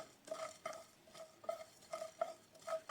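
Cumin, coriander seeds and peppercorns dry roast in a wok, stirred with a spatula in a steady run of soft, quiet scraping strokes, with no talking.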